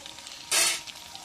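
A short burst of loud sizzling as meat is fried dry in a pot for biryani, rising sharply and fading within a fraction of a second.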